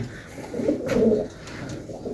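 Pigeons kept in a home loft, with pairs and young hens housed separately, coo nearby in a soft low throbbing murmur that swells in the middle and fades again.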